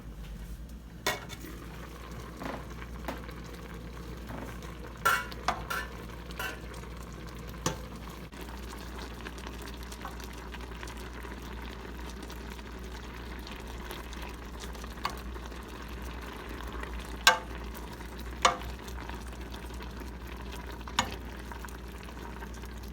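Apples for applesauce simmering in a covered pot on low heat, a quiet steady bubbling hiss with scattered light clinks and taps of a lid or utensil now and then.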